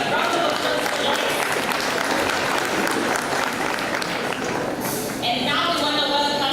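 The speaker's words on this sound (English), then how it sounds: "A round of applause for Lois." Audience applause at an education dialogue event in Nairobi, a steady wash of clapping from a sizeable crowd lasting several seconds, with a voice speaking over it toward the end.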